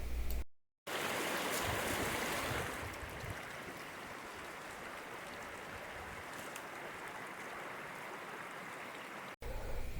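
Steady broadband rush of flowing water from a forest stream, the Stohivets, close and continuous, with a brief dropout near the start; no voices.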